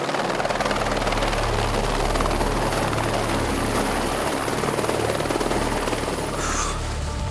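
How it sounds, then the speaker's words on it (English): A helicopter flies low above the ground between trees just before a wingsuit jump, its rotor and engine drone loud and constant throughout, steady and close with a slight shift near the end. "I'm gonna jump out of a helicopter"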